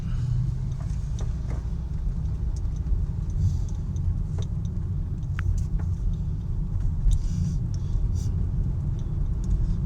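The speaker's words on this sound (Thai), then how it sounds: "ตอนนี้รถติดมากเลยครับ" Heavy road traffic crawling in a jam, a steady low rumble of many engines with faint clicks and ticks scattered over the top, constant throughout.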